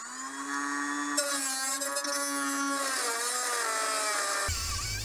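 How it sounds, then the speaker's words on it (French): A Dremel rotary tool cuts a seized nut on the fuel tank of a Peugeot 309 GRX diesel, giving a loud, sustained high-pitched whine that wavers slightly under load for about four seconds before cutting off abruptly. "je vais essayer avec la Dremel à Quentin de la couper"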